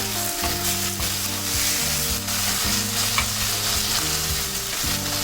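Onions and ripe tomatoes sautéing in a pan for sambar, a continuous close sizzle with stirring scrapes, heard under steady background music.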